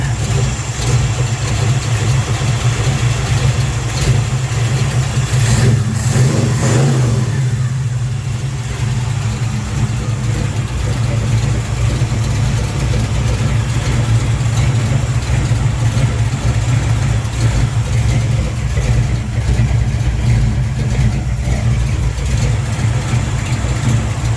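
A 1970 Chevrolet Chevelle engine idles steadily after a cold October start, a loud continuous low rumble that carries on without a break from start to finish.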